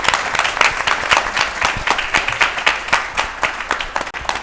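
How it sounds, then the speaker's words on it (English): An audience applauds Team Rebozos on stage at a live pitch event, a dense, steady wash of many hands clapping close and loud throughout, with no voices over it. "another round of applause for Team Rebozos"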